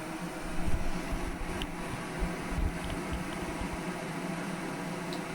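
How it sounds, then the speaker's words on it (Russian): An electric kettle on a portable power station comes to the boil, a steady broadband hiss and rumble with low bubbling surges, loud and continuous with no talk. "Шумит чайник громче, чем кулеры нашего устройства."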